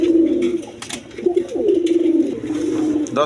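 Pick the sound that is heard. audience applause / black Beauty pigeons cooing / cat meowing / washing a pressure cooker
black Beauty pigeons cooing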